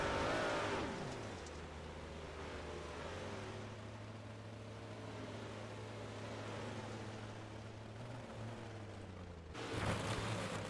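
A 358 modified race car engine on board at Knoxville drones steadily up close, its low tone holding and shifting pitch as the car circles the dirt track, with a louder burst of noise near the end.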